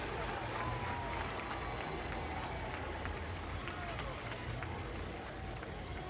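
Home crowd cheering and applauding at a 2023 college lacrosse game between Ohio State and Rutgers, right after a top-shelf goal; a steady, dense roar of cheers and claps fills the whole stretch without letup.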